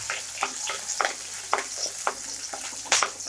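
Chopped ginger, garlic and green chillies sauté in hot oil in a pan, a steady sizzle broken by regular stirring scrapes roughly every half second, close and moderately loud.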